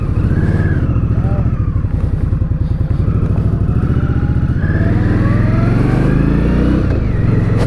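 A 2019 Indian Scout Bobber motorcycle engine revs loudly and close, a steady throbbing idle rising into repeated throttle blips and climbing revs, with faint rider talk at times.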